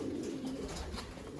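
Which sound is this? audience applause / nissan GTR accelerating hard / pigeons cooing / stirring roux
pigeons cooing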